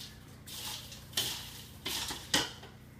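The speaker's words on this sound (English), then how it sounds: "I like to get my tongs here to sort of stir it up" Tongs scraping and clattering through a pot of freshly salted hot kettle corn, with several distinct rasping strokes over about three seconds, close and clear without any voices.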